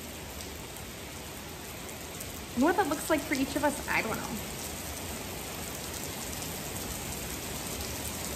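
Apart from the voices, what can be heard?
rain falling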